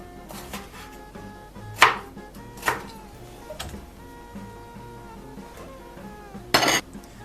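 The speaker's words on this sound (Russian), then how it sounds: "Перец нарезаю короткой соломкой." A knife slices bell pepper into short strips on a cutting board, giving a few sharp, close chops spaced irregularly over quiet kitchen background, with a final quick burst of cuts.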